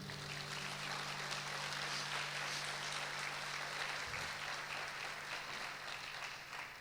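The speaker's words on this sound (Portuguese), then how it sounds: "Dá uma salva de palmas para o Joaquim." An audience at a church conference in Brazil breaks into dense, continuous applause that holds steady for several seconds, with a low hum of amplified sound underneath.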